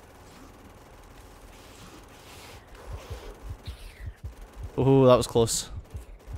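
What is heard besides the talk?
assault rifle / SMG gunfire in Factorio video game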